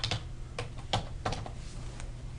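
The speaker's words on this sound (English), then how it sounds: "And then I'm going to type in my password" A password is typed on a computer keyboard, a short run of about eight quiet, close key clicks in an uneven rhythm with no voices.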